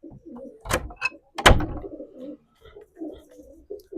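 Bombay breed pigeons coo close by in a few soft, throaty bursts, with a sharp knock or two mixed in and quiet gaps between calls.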